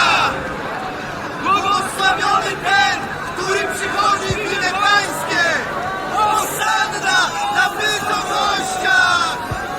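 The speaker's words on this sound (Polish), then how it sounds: "A tłumy, które go poprzedzały i które szły za nim, wołały głośno." A crowd shouts loudly in a biblical audio drama, many voices raised together in repeated swelling cries with a busy hubbub underneath.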